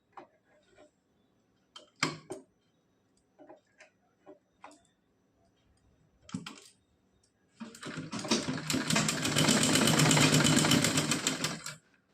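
A sewing machine stitching a small dress for a Laddu Gopal idol runs in a loud, steady whirring burst over the last four seconds, after a few scattered clicks and handling taps of fabric being positioned.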